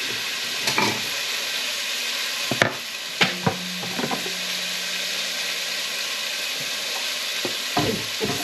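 Beef rendang sizzles steadily in a pan while being stirred, a continuous hiss with scattered scraping clicks and knocks of the utensil against the pan, close and unaccompanied by speech.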